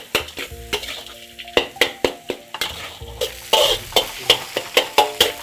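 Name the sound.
stir-frying in a wok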